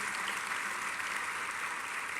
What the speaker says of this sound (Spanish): A dar una ofrenda de palmas al Señor con todo su corazón.